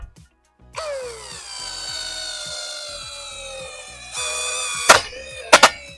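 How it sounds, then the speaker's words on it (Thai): A Chinese brushless drill strains to lift a load of water bottles and a battery, its motor whining loud and close and climbing in pitch, then cutting out, followed by a few sharp clattering knocks. "เดี๋ยวผมจะทดสอบสว่านจีนกันดูนะครับ ว่ามันสามารถยกได้หรือเ ปล่า"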